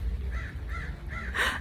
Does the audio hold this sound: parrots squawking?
yes